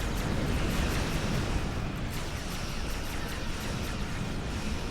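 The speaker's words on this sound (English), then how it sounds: "Oh wow, they actually blew one up. Direct hit!" An enemy ship blows up in a Star Trek Online space battle, a dense, sustained roar of explosion noise filling the whole stretch at steady loudness with faint crackling bursts on top.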